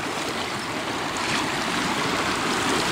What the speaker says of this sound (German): Ich hole jetzt mal das Wasser.